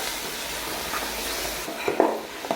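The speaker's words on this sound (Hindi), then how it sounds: "तो अब हम इस मसाले को इसमें अच्छी तरह मिक्स कर लेंगे।" Chicken karahi in a pan gets stirred with white karahi masala, giving a soft continuous sizzle with a few scraping spoon strokes and light clinks near the end.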